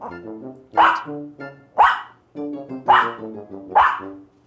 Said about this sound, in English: Sit down again because she's barking at you.